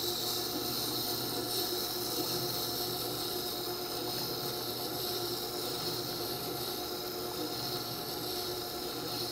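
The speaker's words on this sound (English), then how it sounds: "This wheel is grinding at about 220 grit" A Tormek sharpening wheel at about 220 grit grinds metal with a continuous, even rasping rub that stays steady and moderately quiet throughout, with no pauses or talk.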